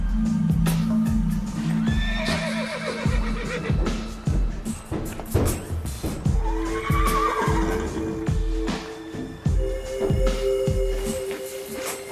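A horse neighs and whinnies several times in a stable setting, loud and close, over a steady rhythm of clopping hooves.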